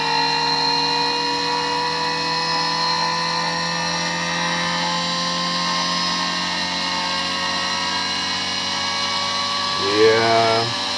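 The rotor of a pulse motor spins at speed with a steady, close mechanical whine full of layered tones. The pitch wavers and shifts briefly near the end.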